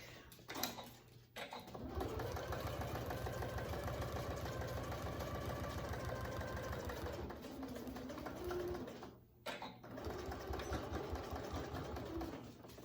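A domestic sewing machine stitches a pocket onto a range bag, running in a steady mechanical whir for most of the stretch with brief pauses at the start and near the end, fairly faint and with no talk.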